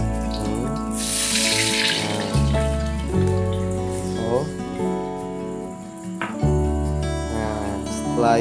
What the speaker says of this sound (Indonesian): setelah kalau udah goreng setengah matang, kita siram pakai air nih